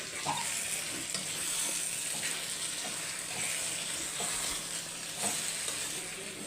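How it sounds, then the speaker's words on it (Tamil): Chicken fries in oil in a pan, a steady close sizzle with occasional stirring clinks throughout, no talking. "சிக்கன் வெந்துட்டுருக்கோம் நல்லா எண்ணெய் பிரிஞ்சு வந்துடுச்சு பாருங்கள்"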